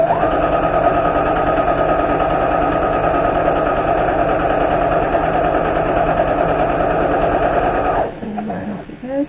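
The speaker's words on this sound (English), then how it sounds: "we're going to sew all the way around it, because this is going to be the outside of your bag" A sewing machine runs a steady, continuous stitch around the outside seam of a lined zipper pouch, loud and close, with a humming motor drone that stops abruptly near the end.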